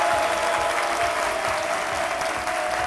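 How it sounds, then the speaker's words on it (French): A television studio audience applauds on a talk-show set, a dense, steady burst of clapping at full strength throughout. "Méliane Kuni, que je vous demande d'applaudir."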